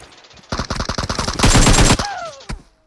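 Rapid automatic gunfire from an Uzi in the mobile game BGMI rattles out in close, loud bursts, then trails off into a single final shot.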